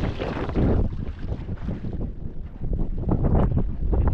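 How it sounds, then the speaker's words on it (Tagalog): Strong northeast monsoon wind blasts across the microphone at sea aboard a boat, a loud, continuous broadband roar with gusting surges and water rushing beneath, no voices. "Ayan, malakas pa rin ang amihan."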